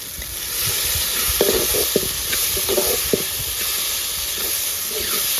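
Chicken frying with masala, salt and kasuri methi in a pan, giving a steady sizzle and hiss with faint stirring clicks throughout.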